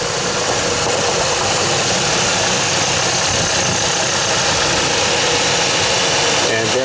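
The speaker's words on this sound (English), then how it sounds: "I'll start up the truck now and you can hear it." Chevy Colorado truck engine with a newly replaced belt tensioner, running at a steady close-up idle with a continuous mechanical hum and whir and no breaks.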